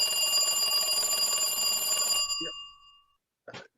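An old telephone bell rings continuously and loudly for about two seconds, then stops and its tone fades out. A brief voice follows after a short pause.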